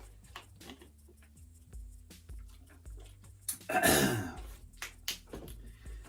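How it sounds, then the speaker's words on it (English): Someone clears their throat once, a harsh rasping burst standing out from quiet room tone, with faint breaths around it. "Sorry, I gotta clear my throat."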